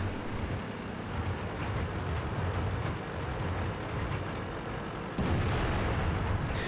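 In World of Tanks, on the Karelia map, a tank cannon fires amid a loud, continuous rumble of battle, and a sudden heavier blast hits near the end.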